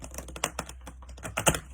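Rapid papery riffling of a tarot-style card deck being shuffled, a quick flurry of crisp clicks with a few sharper bursts near the end.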